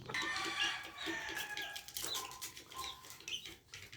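Hens and young chicks cluck and peep close by in a backyard poultry pen, with overlapping bursts of clucking and high chirps running continuously, and no talking.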